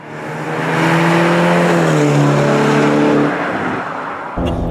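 A turbocharged Ferrari California T accelerating hard, its engine note climbing loudly through the revs with a gear change before easing off.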